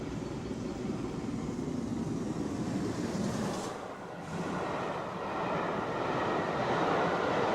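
The GWR City of Truro steam locomotive runs on a British main line, a steady broad rumble and roar at moderate distance that dips briefly partway through and then builds again, with no voices.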